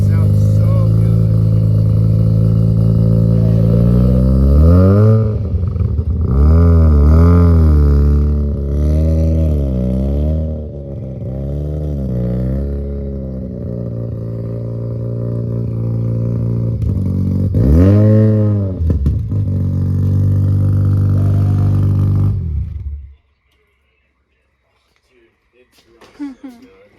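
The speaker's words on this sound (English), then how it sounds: "that exhaust sounds so good" A 1980s Mazda RX-7 FC rotary engine revs hard through its exhaust, rising and falling in loud, close, repeated surges over a sustained idle before cutting off abruptly into silence.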